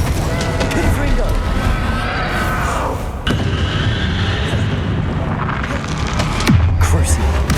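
A Confringo fire spell is cast during Hogwarts Legacy combat, loud whooshing blasts and booms over a dense, continuous wash of battle noise, with voices and effects layered throughout.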